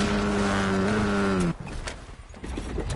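A car engine in the Fortnite video game hums steadily at close range, then cuts to a rougher, quieter rumble halfway through.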